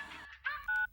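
Mobile phone giving off a short electronic tone sequence, a few clear beeps rising in pitch, close and alone in a quiet room.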